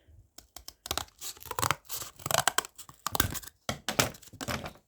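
Scissors cut through cardboard close by while making arms for a toy garbage truck, with a run of irregular crunching snips and tearing cuts separated by brief pauses.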